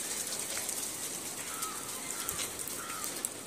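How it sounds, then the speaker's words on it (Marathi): Heavy rain falls steadily around a home garden, producing a soft, even wash of hiss throughout, with a few faint bird calls breaking through near the middle and end. "चला आता पाऊस मोठा चालू झालेला आहे."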